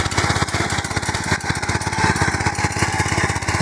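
A new Japanese-made power weeder works a sugarcane farm field, its small engine chugging in a steady, rapid, close pulse throughout, with no talk over it.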